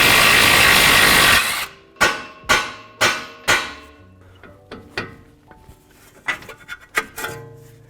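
Hammer blows knock a tie rod end out of the steering knuckle on a 2021-2023 Ford F-150. A loud noisy burst comes first, then about five sharp metallic strikes in steady rhythm, followed by lighter clinks and taps nearby.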